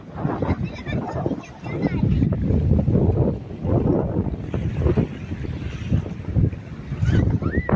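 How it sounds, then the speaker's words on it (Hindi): Sea water and wind sound at Thuwal beach near Jeddah, with surf and gusty air noise running underneath voices talking close by. "आवाज़ सुन रहे हैं पानी की।"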